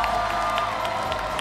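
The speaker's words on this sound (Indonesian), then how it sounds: "Tepuk tangan dong buat Bunda Mulia." High-school arts festival audience applauding and cheering for the SMA Bunda Mulia performance group, a dense crowd roar of clapping mixed with shouts, steady and fairly loud, with a sustained tone running beneath.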